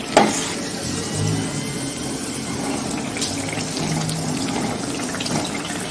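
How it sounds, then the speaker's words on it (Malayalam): Sweet poori frying in boiling oil, a steady close bubbling sizzle that runs continuously with a sharp splash at the start as the dough drops in. "നമ്മൾ പൂരി ചുട്ടെടുക്കാനായിട്ട് നല്ല തിളച്ച എണ്ണയിലേക്ക് ഇട്ട് കൊടുക്കണം"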